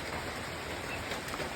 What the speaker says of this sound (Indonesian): Cuaca lumayan mendung dan hujan rintik-rintik